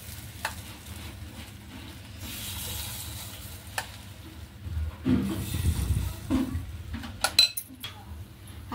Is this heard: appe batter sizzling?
yes